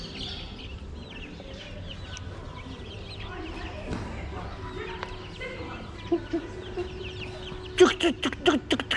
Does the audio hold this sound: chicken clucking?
yes